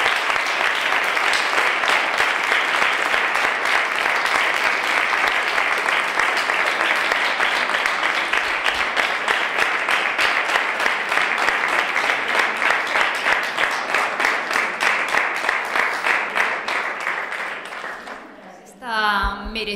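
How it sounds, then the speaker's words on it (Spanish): Sustained audience ovation after a hands-on mathematics talk, with dense, even clapping from a large crowd holding steady for a long stretch before fading out, then a voice begins speaking. "Merecida ovación"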